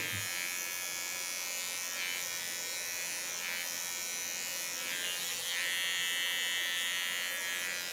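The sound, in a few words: electric hair clipper buzzing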